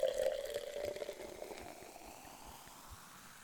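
Moët & Chandon rosé champagne being poured into a champagne glass, a close fizzing pour that starts with a bright stream and settles into soft, crackling bubbles.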